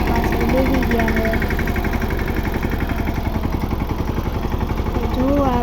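A farm tractor's engine idles on a sowing day with a steady, loud, even throb and constant low mechanical drone, while a voice briefly sounds at moments near the start and end.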